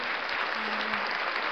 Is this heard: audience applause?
yes